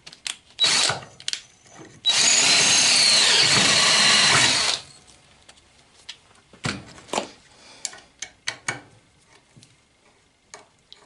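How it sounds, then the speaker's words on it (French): Power drill boring an 8 mm hole in a small metal part held in a vise: short bursts and one sustained whine of about three seconds, close and loud, among scattered clicks and handling knocks. "je vais percer déjà à 8"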